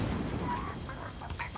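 A chicken in a video game gives a few short, faint clucks over a low rumbling background.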